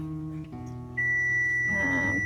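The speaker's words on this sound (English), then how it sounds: "There's my timer." A kitchen timer sounds during keto cheesecake sauce cooking, a sustained electronic tone rising over a low background hum, fairly clear and close, with no talking.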